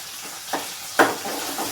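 Ginger and onions fry in a pan under a steady close sizzle, with two sharp scraping strokes of a spoon as they are stirred.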